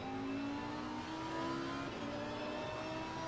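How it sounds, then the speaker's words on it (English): A Lamborghini GT3 race car engine revs and shifts in an online racing game round at the Nürburgring, a steady high-pitched drone rising and falling in pitch, heard fairly quietly and alone. "Wonderful sound from that Italian engine."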